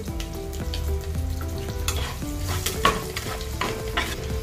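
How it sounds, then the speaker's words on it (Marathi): Urad dal, curry leaves and green chili frying in hot oil for South Indian lemon rice, a loud continuous sizzle with spoon scrapes and stirring clatter close by, no talking. "तेलामध्ये याला चांगली तळून घ्यायची"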